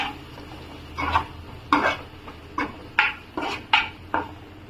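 Fish curry masala with turmeric being stirred in a pan: about eight separate scraping, clattering strokes of a spoon against metal, close and evenly spaced, with no voices.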